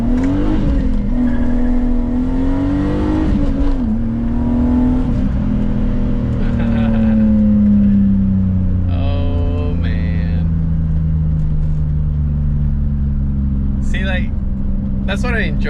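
A sports car pulls hard through first gear, its engine note rising steadily and loudly with a whine, then easing off near the end as someone talks over it.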